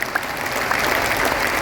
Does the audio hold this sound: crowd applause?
yes